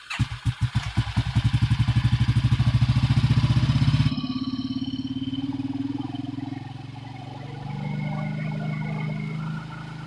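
Motorcycle engine revving loudly and close as its carburetor is adjusted, pulsing quickly at first then settling into a steady idle that fades lower, with no talk over it.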